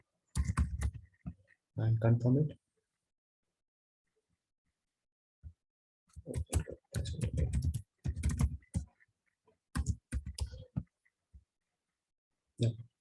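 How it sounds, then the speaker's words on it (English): Clacking keystrokes of a password typed on a computer keyboard come in quick clustered bursts separated by pauses, close and moderately loud, with a brief spoken phrase among them. "let me type my password"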